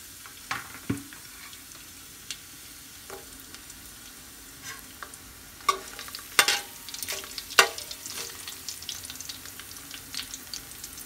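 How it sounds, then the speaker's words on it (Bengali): Garlic fries in corn vegetable oil in a pan, a soft steady sizzle broken by scattered clinks and scrapes of stirring, quiet and close, with no talking. "আমার রসুনগুলো প্রায় ব্রাউন কালার হয়ে আসছে"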